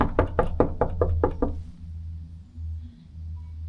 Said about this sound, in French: Désolé, j'ai frappé à la porte.